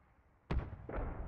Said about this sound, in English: It is an absolute chaotic burst of gunfire from all sides.